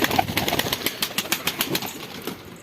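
A play pigeon is released and flaps its wings in flight, giving a series of soft, rapid wing beats that stay close and fairly quiet.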